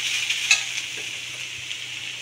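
Grated radish and spices fry in a pan with a steady soft sizzle, a brief clink of a spoon near the start, close and without talk.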